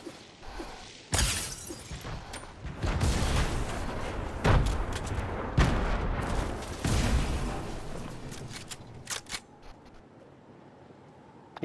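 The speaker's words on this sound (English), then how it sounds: "Let me grenade him." A grenade blast and bursts of gunfire in a Fortnite match: loud sharp broadband cracks and booms recur across the stretch, with dense crackling debris in between and no voices.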